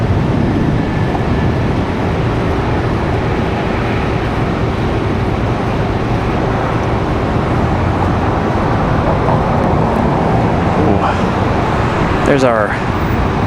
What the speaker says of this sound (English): Dreamliner from SFO